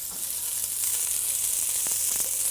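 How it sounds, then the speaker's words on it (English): Chopped onions sizzling in hot oil in a pan in an Italian kitchen, a loud steady bright hiss with occasional small pops, heard alone without talk. "We're going to start with some onions first. Beautiful noise, huh?"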